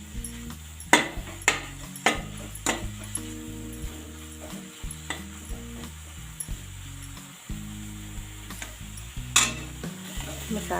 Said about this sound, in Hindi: अच्छे से इसको मसाले को पका लेते हैं।